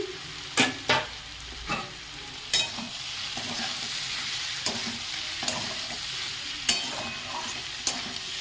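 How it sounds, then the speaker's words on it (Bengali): Soya chunks with onion and capsicum sizzle steadily in a pan while a spoon scrapes and stirs in sharp, irregular strokes close by, with no talking. "আমার পেঁয়াজ আর ক্যাপসিকামটা খুব ভালোভাবে ভাজা হয়ে গেছে এবার এখানে সয়াবিনটা দিয়ে দিচ্ছি"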